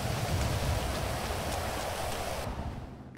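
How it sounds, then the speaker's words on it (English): Steady rain hisses evenly for a few seconds in the video game GTA V, a dense wash of drops with no voices, thinning slightly at the very end. "It is raining cats and dogs"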